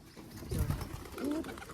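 Pigeons cooing close by on a raised pigeon feeding platform, two soft low throaty coos in quick succession against quiet background.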